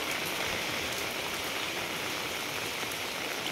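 Steady, dense rain falling outdoors in Cuttack district during Cyclone Montha, an unbroken hiss of downpour at moderate level with no voices.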